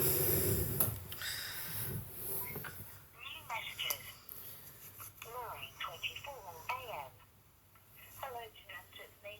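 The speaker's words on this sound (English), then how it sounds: "I'm just listening to my mum's answer phone messages." A voice message plays back over a phone line, thin and slightly distorted, with a beep and some crackle near the start.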